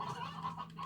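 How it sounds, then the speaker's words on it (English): Stony hen chickens in the Slime Rancher video game cluck softly in a brief, low-level burst, with a steady tonal hum underneath. "I also got some more stony hens."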